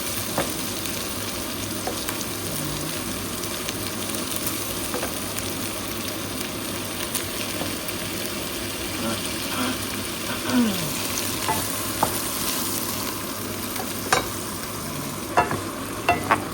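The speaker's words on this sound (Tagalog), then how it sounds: "So, halo-haloin natin sa sibuyas at bawang" Boiled beef being stirred with onion and garlic in a pan for beef caldereta gives a steady, close sizzle with scraping stirs and a few sharper clicks near the end; no one speaks.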